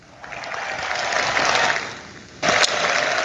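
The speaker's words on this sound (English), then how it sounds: "Big round of applause for them." Applause on a sports talk show, a muffled, steady clapping that swells, dips briefly, then surges again in a sharp burst.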